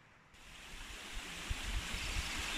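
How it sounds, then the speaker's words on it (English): River water flows at the bottom of a valley in a steady broadband rush that grows slightly louder over a couple of seconds, with faint low bumps underneath and no voices. "you can hear the water. That's the River S"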